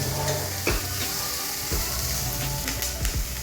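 Onions sizzle and fry in a hot pan, a continuous crackling hiss broken by occasional scrapes of stirring, close and steady without any talk.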